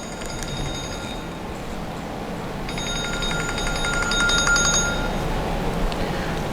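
A phone rings in a car detailing shop, a bright trilling ring heard in two bursts over a steady hum of background noise, fairly distant.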